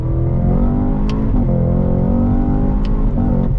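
A 2024 Cadillac CT5-V Blackwing accelerates hard from inside the cabin, its engine roaring steadily and climbing in pitch, with two sharp cracks as it snaps through upshifts.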